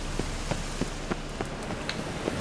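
Steady rain falls in The Witcher 3, a constant soft hiss with scattered individual drops tapping at irregular intervals, no voices.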